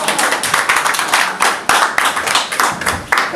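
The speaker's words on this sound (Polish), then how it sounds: "Gorąco brawa." An audience at a talk about a local cinema in Trzcińsko claps warmly, a dense steady round of hand claps close by with brief surges, no voices.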